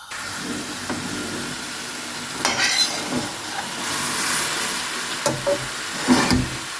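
Sliced apples cooking with about 200 grams of sugar in a pan, a soft low sizzle under scraping and stirring, with a few louder clattering knocks of a spoon against the pan.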